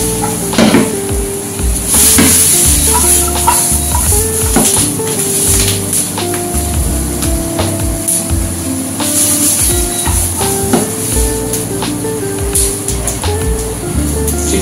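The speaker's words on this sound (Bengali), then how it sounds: "রসুন কুচি, সবজিগুলি রেখেছিলাম সেটাও ঢেলে দিলাম।" Chopped garlic and vegetables hit a hot pan for Thai red chicken curry, giving a continuous loud sizzle with repeated clanks and scrapes of a utensil against the pan throughout.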